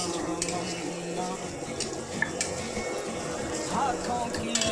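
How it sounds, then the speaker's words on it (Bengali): Onion frying in a pan, heard as a soft, continuous sizzle with faint stirring and small clinks, fairly quiet against a low background. "তোমরা দেখতে থাকো তখন পেঁয়াজটা ভাজা হোক।"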